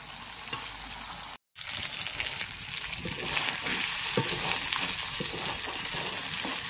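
Meat braises and fries in a pan, a dense close sizzle with stirring scrapes that builds louder after a brief dropout near the start, with no talk.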